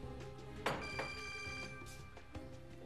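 A telephone rings quietly with repeated electronic bell tones, a few separate rings over a few seconds, faint and without talk, in a Turkish comedy sketch.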